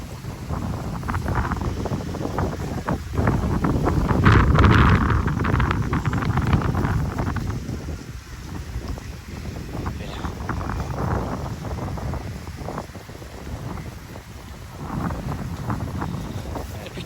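Steady wind at Karon Beach, Thailand, buffeting the microphone, a constant roar with gusts swelling louder in the middle, broadband rumble throughout with no voices.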